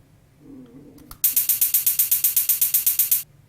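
A programmed cymbal sequence plays back in a music editor: a faint low murmur, then about fifteen bright, evenly spaced metallic hits in quick rhythm, loud and crisp, stopping abruptly.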